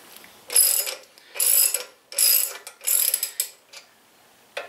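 A 6 mm ratcheting driver spins nuts off a 2016 Indian Scout Sixty motorcycle fender in four close, distinct bursts of clicking ratchet, with short pauses between and a faint final click.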